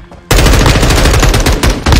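Loud, close gunfire from a video game bursts in after a short quiet start, a rapid string of shots with brief gaps between bursts.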